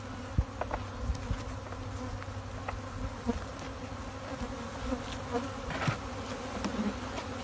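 Honeybees buzz in a steady, dense drone around an open hive during queen replacement, with occasional louder individual bees passing close over the continuous hum.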